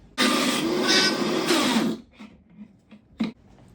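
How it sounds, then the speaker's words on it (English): A Vitamix blender roars loudly for about two seconds as it blends frozen mint chip ice cream ingredients with sweet potatoes, kale, mango and azuki beans, then stops, leaving a few soft clicks and knocks. "and we'll head to the blender."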